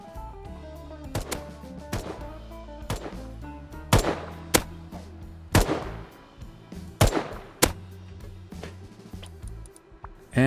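Gunfire in the survival game Rust rings out as sharp single shots and short clusters spaced every second or so, loud against a quiet background with no talk.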